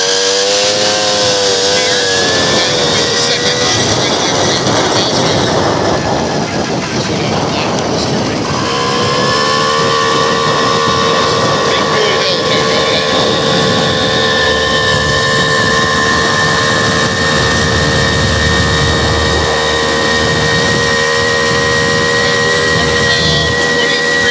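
A Tomos Targa 50cc moped engine drones steadily and loudly while climbing a hill, its pitch rising and then dropping as it kicks down under load, with road and wind noise throughout.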